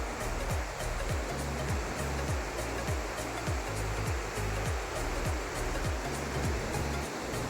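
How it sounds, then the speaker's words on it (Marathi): The Kapshi river's water rushes steadily without a break, loud and close, with a low rhythmic thumping under the flow. "ही पूर्ण नदी कापशी नदी आहे"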